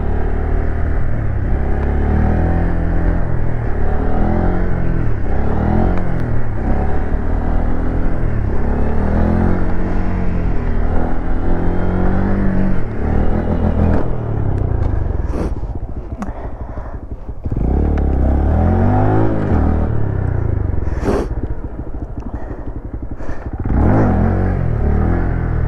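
A car engine revs hard in second gear while driving, loud and close. It rises and falls in repeated pitch sweeps over a constant rumble, with no talk.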